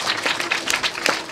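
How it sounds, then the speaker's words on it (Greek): Applause for young swimmers at a seaside sports awards ceremony, a small crowd clapping steadily and fairly close, with a few louder claps standing out. "και ένα πολύ μεγάλο χειροκρότημα"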